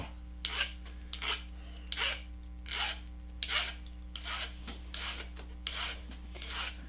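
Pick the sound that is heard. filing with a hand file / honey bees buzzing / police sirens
filing with a hand file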